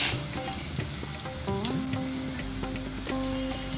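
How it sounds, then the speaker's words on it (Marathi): Chopped onion sizzling steadily in hot oil in a hot kadhai for a tempering for upma, with bright continuous crackle and clinks of a stirring spoon against the pan. "कांदा घातल्यानंतर कढीपत्ता घालते, म्हणजे काय पटकन तो तडतडत नाही."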